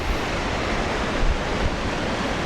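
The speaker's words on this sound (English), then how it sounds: "And there's the wind." Wind gusting across an exposed cliffside ledge on the Caminito del Rey path near Malaga, Spain, a steady, loud broadband rush with a couple of stronger swells, no voices.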